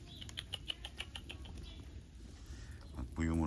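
Light summer rain patters steadily outdoors, a soft close crackle with small animal chirps and rustles mixed in, and a voice cuts in briefly at the end.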